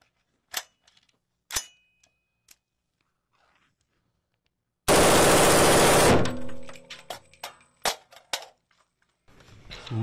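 A Glock pistol fitted with a switch conversion device fires one loud, rapid full-auto burst lasting about a second, preceded by a few scattered clicks and followed by clattering handling noises.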